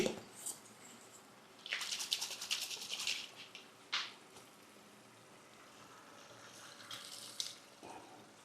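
Kokum (kodampuli) tamarind being rinsed in water in a home kitchen while making a Kerala prawn curry, with a few bursts of splashing and sloshing separated by quiet gaps.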